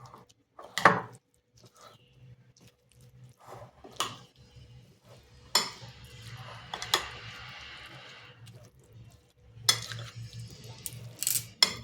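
Soya chunks being mixed with yogurt and a little oil in a pan: intermittent clinks and scrapes of a spoon against metal, with scattered louder knocks and quieter stirring between them.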